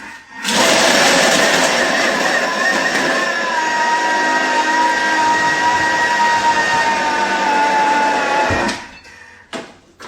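Food processor whirring loudly as it blends frozen bananas into a chocolate banana ice cream, a steady high-pitched motor whine with grinding that runs for about eight seconds before cutting off, followed by a few faint clicks.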